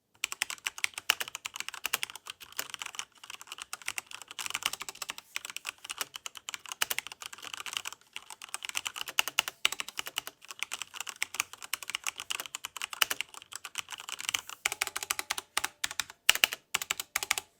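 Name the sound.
Cooler Master MK850 keyboard Cherry MX and hybrid switches typing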